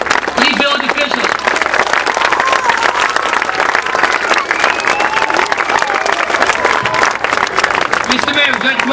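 Loud crowd applause and cheering for village officials at a Little League opening day, dense continuous clapping with scattered shouts and voices mixed in throughout.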